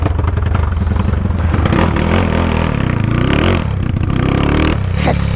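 A Today 371cc motorcycle engine roars loud and close as it accelerates past, revving hard with rising and falling pitch through a continuous blare.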